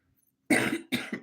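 Two loud, harsh coughs in quick succession after a brief near-silence, close to the listener.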